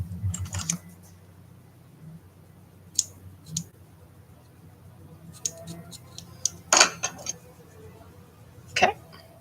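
Scissors make a few sharp, separated snips while trimming a medieval-style cat art doll, close and moderately loud over a low background hum, with no talking.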